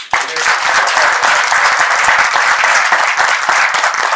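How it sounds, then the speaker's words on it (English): A crowd bursts into loud, sustained applause, dense clapping that fills the room and carries on steadily. "So once again, round of applause."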